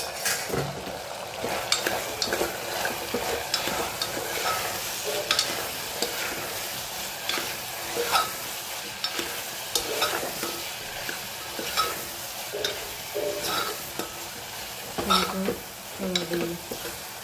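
Vegetables cook in a hot pan with a constant low sizzle, broken by repeated scraping and clinking stirs of a spoon against the metal, fairly close and moderately quiet, with a faint voice now and then.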